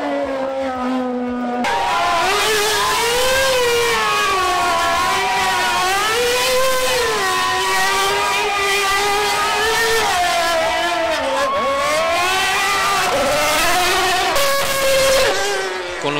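Two Infiniti Red Bull Racing Formula One cars rev hard at a street showrun in Mexico City, a loud continuous engine wail sweeping up and down in pitch with repeated throttle blips and no pauses throughout.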